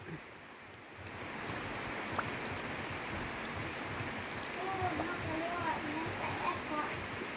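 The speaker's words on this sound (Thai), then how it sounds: "ฝนตกอีกแล้ว" Steady rain falls at a rural Thai lunch spot as a dense, even hiss that holds throughout, with faint bird chirps coming through near the end.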